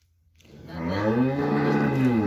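A single long, loud moo from a bull or cow at a village cattle market, rising in and holding steady near the listener, with no talking.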